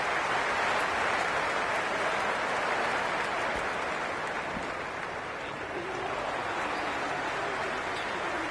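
Cricket crowd applause and crowd noise during an Ashes first test match in the Cricket 26 video game, a steady broad wash of clapping and murmur that holds level throughout with no clear voices.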